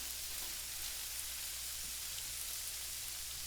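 Squid frying in a paella pan over medium heat, a soft, steady, even sizzle with a faint hiss and no pauses, quiet and continuous throughout.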